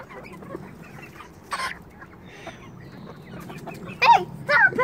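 Backyard chickens clucking close by in the morning, with soft continuous murmuring clucks building to louder, sharper calls near the end, no talking over them.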